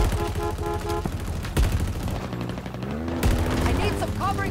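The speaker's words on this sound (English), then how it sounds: "On the chain gun." Chain gun fire in the Halo Infinite campaign at FOB Charlie, a loud steady stream of rapid shots over music and battle noise, with voices speaking during it.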